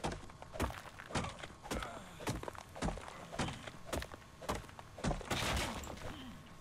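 Stone being gathered in the video game Ark: Scorched Earth, a series of repeated sharp thunking impacts at a steady pace, fairly close and moderately loud, with no talking.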